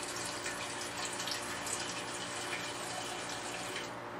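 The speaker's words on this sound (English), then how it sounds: "Take a little bit of xylene. Dump it right in the sprayer." Xylene solvent is poured into a sprayer tank, giving a faint, steady liquid trickle and splash that runs continuously for a few seconds in a quiet setting.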